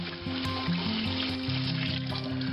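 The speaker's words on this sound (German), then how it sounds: "Das heißt also reinkippen und dann in die heiße Pfanne Klarwasser" Water poured into a hot iron pan for cleaning, giving a continuous hissing sizzle over a brief stretch, with a low tonal hum underneath.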